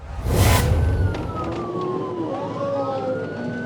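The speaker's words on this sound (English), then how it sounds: "As the trooper activated his emergency lights and siren to initiate a traffic stop" A police trooper's siren wails in rising and falling tones over steady road traffic noise during a traffic stop of fleeing motorcyclists, fairly close, after a brief loud burst at the start.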